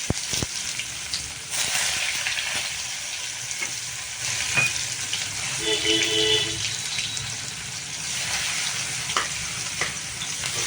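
Chopped onions, mustard seeds and asafoetida hitting hot oil in a pan, a loud steady sizzle with stirring and scraping, plus a few brief clinks and faint chirps near the middle.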